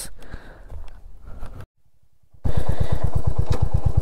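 A Royal Enfield Hunter 350 motorcycle starts off loud and close, its engine thumping in rapid, even pulses after a brief quiet stretch that follows some rustling.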